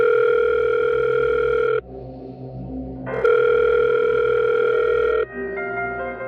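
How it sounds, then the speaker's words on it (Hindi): A mobile phone rings loudly in steady electronic tones, pausing briefly between bursts and shifting pitch partway through. "पॉकेट में रखा उसका फोन बज उठा"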